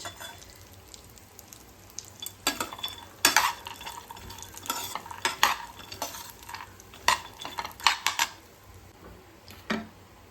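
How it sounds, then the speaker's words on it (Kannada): Dry fruits fry in ghee in a pan for laddu, with irregular spoon scrapes and clinks against the metal over a soft sizzle, the stirring strokes loud and close in bursts. "ತುಪ್ಪದಲ್ಲೇ ಚೆನ್ನಾಗಿ ಫ್ರೈ ಆಗಬೇಕು"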